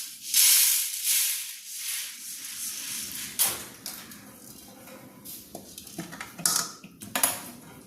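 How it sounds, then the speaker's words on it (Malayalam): Roasted wheat avilos podi poured and scraped into a metal vessel, giving close, bright metallic clinks and a soft grainy hiss, loud at first and then in scattered taps and scrapes. "ഇനി ഒരു പാത്രം എടുത്തിട്ടുണ്ട് അതിലേക്ക് ഇട്ട് കൊടുക്കുകയാണ്"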